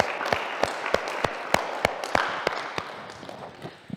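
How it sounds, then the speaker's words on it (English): A retreat audience at an interactive session applauds, producing a run of distinct, fairly regular claps up close over a diffuse bed of clapping that gradually thins out. "yourselves a round of applause."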